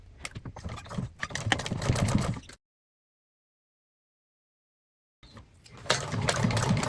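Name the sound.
sewing machine stitching a crossbody bag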